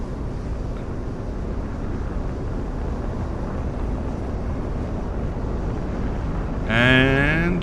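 A jet with vectored engines takes off in Project Wingman, a steady, loud broadband roar that holds evenly throughout and swells near the end with a brief rising whine.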